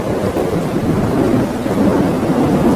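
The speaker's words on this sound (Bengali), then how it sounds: "বৃষ্টি আরম্ভ হয়ে গেল।" Rain begins with rolling thunder, a loud, dense rumble and roar of downpour that fills the scene continuously from start to end, with no voices.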